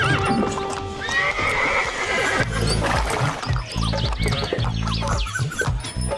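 Horse pulling a cart, with steady rhythmic clip-clop of hooves, close and loud, plus a whinny over the trotting.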